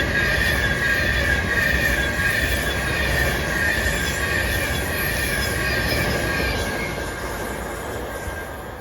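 A train runs through Motherwell station with a steady loud rumble of wheels on rails, high squealing tones from the wheels, and a roar that slowly fades toward the end.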